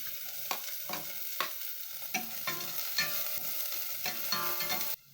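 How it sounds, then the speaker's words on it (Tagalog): Onion and garlic sauté in a little hot oil in a cooking pot, a continuous sizzle broken by repeated scraping stirs of a utensil against the pot, close and clear, with no voices. "Sa isang cooking pot, nagpainit lang ako ng kaunting mantika. Nagsaute na ako ng onion"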